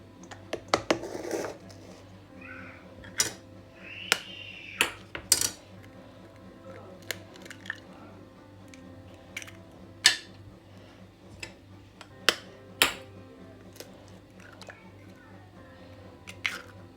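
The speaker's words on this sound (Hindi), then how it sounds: "अब इनको मिक्स करना है अच्छे से।" Cornflour and maida mixed in a bowl: soft scraping and a series of sharp clinks of a utensil against the bowl, spread unevenly over a quiet kitchen background.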